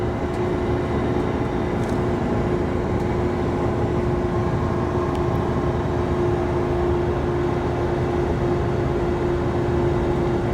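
A Chevy Silverado 2500 with the gas L8T V8 tows a load up a 6% grade, its engine holding a loud, steady drone with a constant tone throughout, the transmission working through a gear change.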